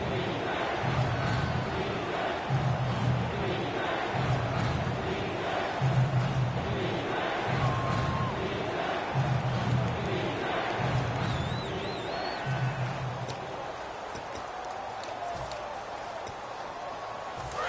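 A stadium crowd roars in an EA Sports football video game during the fourth quarter, with a broad, continuous cheer and rhythmic chant-like swells under a commentator's talk.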